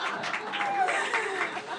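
A cabaret audience gives a short burst of steady applause, dense clapping mixed with murmuring chatter and faint laughter throughout.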